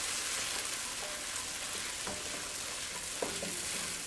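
Shrimp malai curry sizzling and frying steadily in a pan over a high flame, with soft scraping stir strokes and a few light clinks of the spoon against the pan, heard close with no talking.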